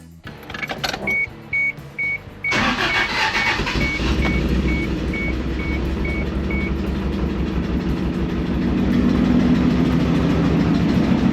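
An old carbureted truck engine cranks and catches, then idles roughly and steadily for several seconds, with a few faint beeps early on.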